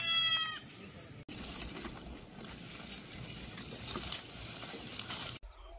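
A goat gives a short bleat at the start near a well on a farm, then open outdoor ambience with soft rustling and wind carries on.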